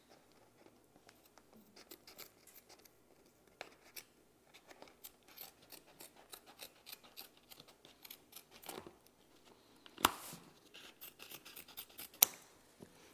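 Scissors snip through canvas while a print is stretched, a series of crisp, close cutting strokes with soft rustling between them and a couple of sharper snaps near the end.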